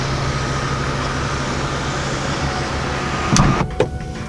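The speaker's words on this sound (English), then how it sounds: "all but the very base trim come with this power moonroof" The power moonroof motor of a 2019 Mazda 6 Turbo hums steadily inside the cabin, a continuous close electric whir that ends with a couple of soft mechanical clunks as the panel stops.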